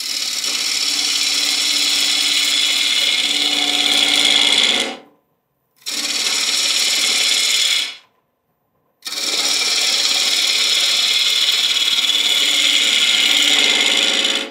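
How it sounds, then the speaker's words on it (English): A wooden bowl blank spins on a lathe while a carbide cutter shaves side grain, giving a loud, continuous close-up scraping rasp that stops briefly twice before resuming. "I'm only taking about half the width or less of the carbide cutter at any time."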